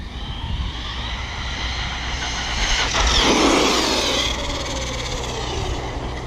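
A stock ARRMA Talion 6S 1/8-scale RC car makes a speed run on a road, its electric drive giving a steady high whine and tire roar that swells as it passes close, then eases off.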